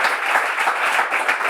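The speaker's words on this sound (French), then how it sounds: "Allez, on applaudit bien fort les candidats." An audience at a Bible quiz show applauds the contestants, a dense, even wash of clapping that stays loud and steady throughout with no voices on top.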